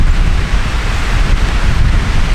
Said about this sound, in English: the wind is definitely starting to pick up a lot